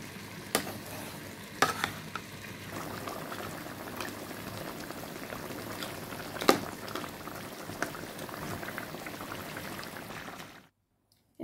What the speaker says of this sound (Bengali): এর মাঝে লাল পেঁয়াজটা দিয়ে নিলাম মাছ আর কাঁচামরিচ একসাথে করে।